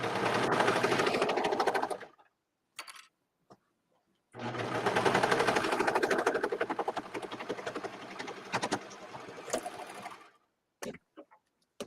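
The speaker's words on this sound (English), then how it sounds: "my layers are pretty easy to sew through" A sewing machine stitches through pinned and clipped fabric layers for a onesie dress in two steady whirring runs. A short pause separates them, and a few brief taps and clicks follow.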